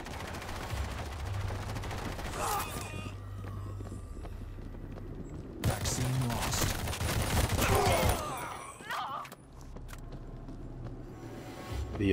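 Gunfire from a weapon in the zombie shooter World War Z, with bursts of shots over a busy game soundscape and a louder stretch midway, mixed with footsteps and effects.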